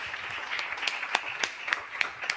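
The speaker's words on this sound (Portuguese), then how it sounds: "Dá uma salva de palmas ao Senhor Jesus" A church congregation claps together in a quick, uneven patter of hands, moderately close and brief, with no voices over it.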